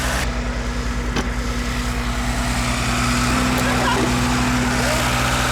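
Old Lada Zhiguli car engine idling steadily while warming up, a close, even low drone with a constant hum, faint clicks and scattered background sounds.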